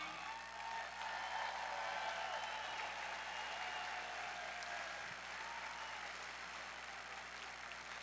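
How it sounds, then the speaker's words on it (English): A crowd at a political rally in Henderson, Nevada applauds standing legislators, a steady, somewhat distant wash of clapping under a constant low hum, fading slightly toward the end. "Give them a round of applause,"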